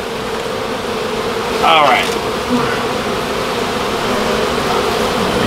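Honey bees buzz densely and continuously around an opened beehive, loud and close, while someone speaks briefly over the drone.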